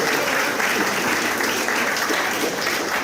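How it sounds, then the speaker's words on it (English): An audience applauds at a talk event, with dense, steady clapping from a large crowd filling the whole three seconds and no voices heard. "So can you give the person sitting next to you a round of applause for coming?"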